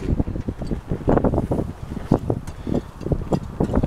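Gusty wind blows outdoors and buffets the microphone in a run of loud, irregular rumbling bursts that continue for a few seconds.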